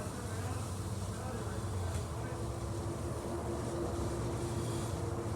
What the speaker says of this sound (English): And the slide is coming out.